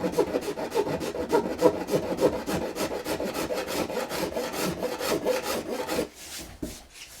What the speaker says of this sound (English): we're gonna quickly take a big file to the leftover epoxy on the edge